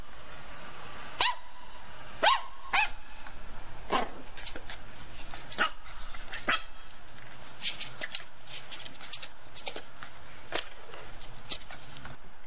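A Welsh Pembroke Corgi barks and yips at a chunk of ice in repeated sharp bursts, close and loud, with soft whimpers and footsteps between the barks.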